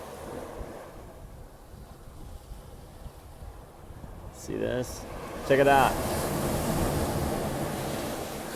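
Surf washes onto a shore in a steady, broad rush beneath gusting wind, with a louder wave surging in toward the end; someone speaks briefly over it.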